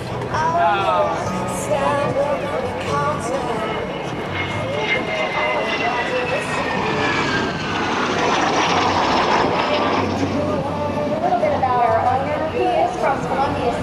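A T-33 Shooting Star jet at an air show over Hampton Roads, its engine roaring loudly as it passes, with pitch sweeping down as it flies by, while an announcer talks over the sound throughout.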